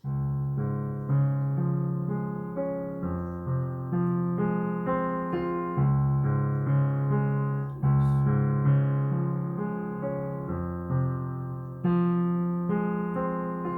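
A piano plays a slow, flowing passage from Debussy's Clair de lune. Sustained notes overlap and change gently over several seconds. The tone is soft, quiet, and close, with no talking.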